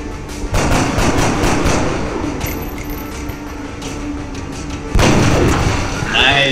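Heavy sniper rifle shots in the game XCOM: Enemy Within: a loud blast near the start and another around five seconds, each with a booming tail, over busy game sound and some voices.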